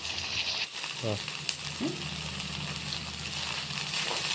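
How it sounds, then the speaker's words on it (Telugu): Beans frying in a pan for a beans fried rice, a steady soft sizzle running throughout with a few brief clinks and rustles, a voice speaking over it. "బీనీస్ చూసారా ఇవి వేగిపోయినాయి బీనీస్ వేస్తా"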